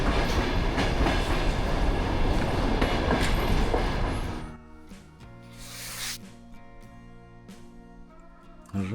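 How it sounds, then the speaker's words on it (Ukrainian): A train of old Soviet-era carriages rolls past on the rails, loud and close with a dense rushing clatter, then drops away abruptly to a quieter tail with faint knocks and squeals. "Нас доганяє наш потяг."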